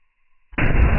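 A single loud gunshot from a Thompson or Vector fired into a ballistic gel block, a sharp blast after near silence, close and alone.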